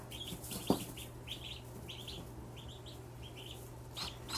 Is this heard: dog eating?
no